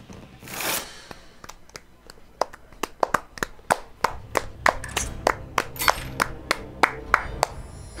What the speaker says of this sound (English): That's the worst applause ever.